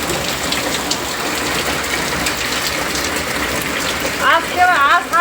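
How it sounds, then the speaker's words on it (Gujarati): Heavy monsoon downpour at a railway setting, a loud steady hiss of rain falling on surfaces, with a few brief high chirps near the end. "આ કેવા આ સારો વરસાદ આવ્યો હે."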